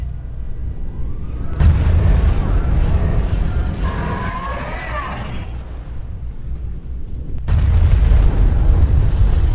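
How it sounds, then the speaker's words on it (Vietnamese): Meteor impacts from a destruction skill in the video game GTA 5 boom out as heavy explosions, two big blasts with rumbling, crackling debris in between, loud and close. "Kỹ năng của hắn cũng là kỹ năng của Thanos, một kỹ năng hủy diệt bằng thiên thạch."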